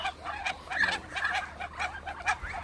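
Chinese ducks on a farm give a steady run of nasal quacks and clucking calls, several birds close by calling in quick repeated bursts, with no talk.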